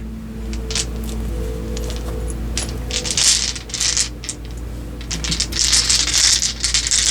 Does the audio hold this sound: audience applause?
no